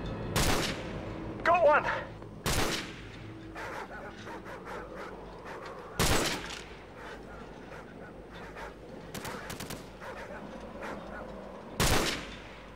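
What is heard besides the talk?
gunfire in the Call of Duty 4 Modern Warfare video game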